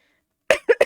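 One person coughs three quick, close and loud times in a short burst, with the first cough slightly longer than the two after it.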